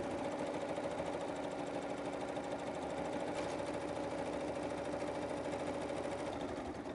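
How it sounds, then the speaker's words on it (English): BERNINA embroidery machine sewing satin and decorative stitches over an appliqué, a steady rapid mechanical whirring hum that runs loud and unbroken throughout, close by, with no talking. "Now the machine's going to do that satin stitching on top of"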